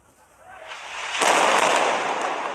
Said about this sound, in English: day started with more airstrikes in Gaza